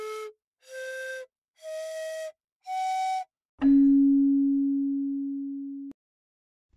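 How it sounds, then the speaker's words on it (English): Pan flute plays four short, breathy notes climbing in pitch, then one long, steady, lower tone held for about two seconds before it cuts off. "Pan flute."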